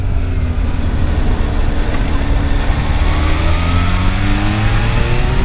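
Supercharged Kawasaki H2 motorcycle engine accelerating, a steady loud drone with rising harmonic pitch sweeps as revs climb repeatedly through gears, no talk over it.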